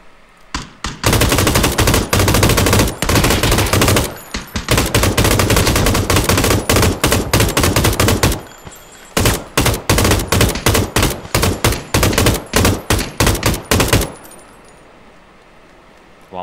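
Automatic rifle fire in the battle royale game PUBG, loud close bursts of rapid shots separated by short pauses, stopping near the end to leave quiet background.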